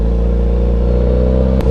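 A motorcycle engine revs close by in a loud, steady, throbbing drone that holds for the whole stretch, with a brief dip near the end.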